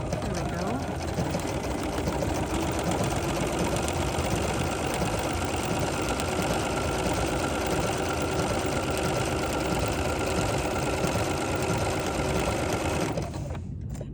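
A sewing machine stitches quilt appliqué, a steady rapid mechanical whir running close and even for most of the time before stopping abruptly near the end.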